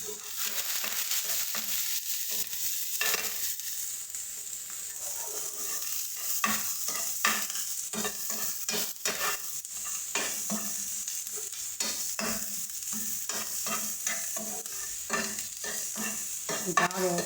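Onion and green chili fry hard in a pan while a spoon stirs and scrapes through them, giving repeated clattering strokes over a continuous sizzle that runs the whole stretch with no talking.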